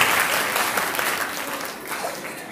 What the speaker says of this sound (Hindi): चलो ताली बजा दो, उठ के